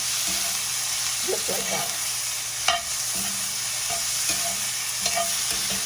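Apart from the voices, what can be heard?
okra with spices being stir fried in a pan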